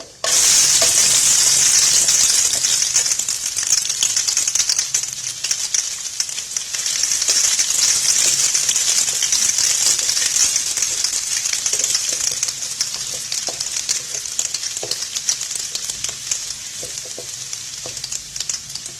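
Steady, loud sizzling of finely chopped garlic frying in hot oil with cinnamon and cloves, a constant crackling hiss with occasional stirring scrapes, no voices.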